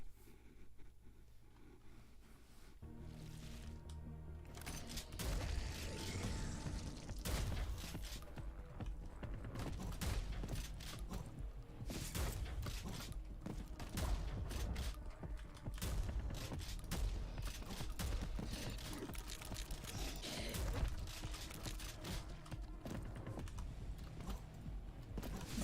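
Shotgun blasts from the video game Prodeus fire in rapid, dense succession, loud and punchy over a constant backdrop of game noise with no talking.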